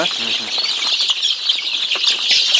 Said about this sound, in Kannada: ಈಗ ಹೊರಗಡೆ ಬಿಟ್ಟೆ ತೋರಿಸ್ತೀನಿ ನೋಡಿ ಕೋಳಿಗಳನ್ನ